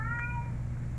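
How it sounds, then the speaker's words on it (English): A pet cat gives a single short meow, clear and close, over a low steady room hum. "that's my cat."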